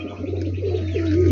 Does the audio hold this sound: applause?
no